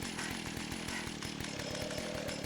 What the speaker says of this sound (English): I don't like the chainsaw noise.